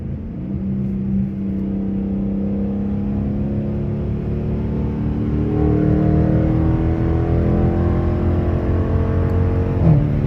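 A Dodge Challenger R/T with a Hellcat differential pulls hard through a long gear, its engine droning loud and steady with rising harmonics as speed builds.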